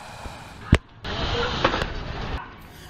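Rapid burst of gunshots on a street in San Pablo, Laguna, with one sharp loud crack followed by a noisy stretch of further bangs over street background.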